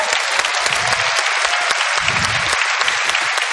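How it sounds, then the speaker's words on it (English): A convention crowd at a Star Wars Celebration 2017 Orlando panel bursts into loud, dense applause, with low-pitched cheers rising underneath at moments. "don't applaud too much."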